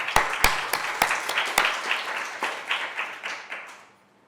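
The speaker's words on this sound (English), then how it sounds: "give them a proper round of applause before we begin tonight" Lecture audience applauding behind-the-scenes staff before an academic talk begins. A few sharp early claps grow into a full round of clapping that fades out steadily over several seconds.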